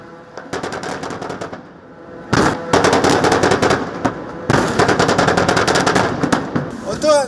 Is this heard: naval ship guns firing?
yes